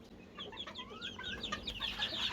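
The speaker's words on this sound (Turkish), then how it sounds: "İki tane de altın zibit tavuğumuz var." Golden Sebright-type zibit hens and young pullets cluck and chatter in a flock, a busy run of short overlapping calls at moderate distance over a quiet background.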